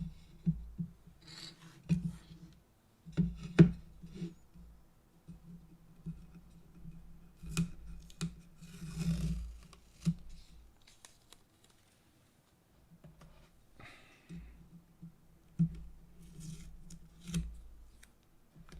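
Scissors snipping a strip of material in a workshop during a VW interior build, intermittent close cuts and rustles with quiet pauses between.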